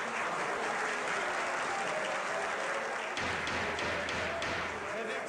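A courtroom audience breaks into sustained applause, a dense, loud wash of clapping from many hands that carries on without pause, with murmured voices mixed into the crowd noise.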